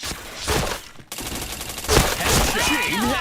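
Gunshots in a video game ring out in quick volleys, loud rattling bursts separated by a brief gap, with a voice heard faintly toward the end.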